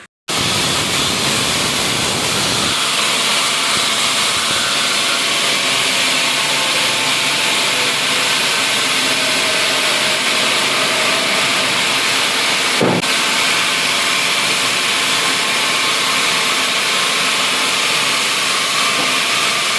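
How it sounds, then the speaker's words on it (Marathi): A cutting machine trims laterite stone tiles to length, producing a loud, unbroken grinding roar throughout, with one brief sharper scrape midway and no talking. "ती लांबी या मशीनवर तयार केली जाते"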